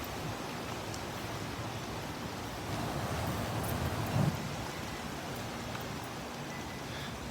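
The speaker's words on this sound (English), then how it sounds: "I just thought, come out, walk around in the wind for a while, make a little video." Steady wind blustering outdoors in the Philippines ahead of a hurricane, a constant broad rushing roar with gusts swelling midway, buffeting the microphone throughout.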